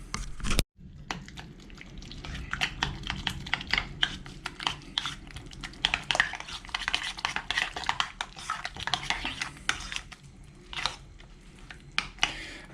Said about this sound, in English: a bit of a whisk up here